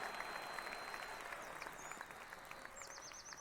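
Steady crowd applause from a golf gallery in the Action PC Golf video game, replaying the 1986 Masters, sustained and even throughout with faint bird chirps over it.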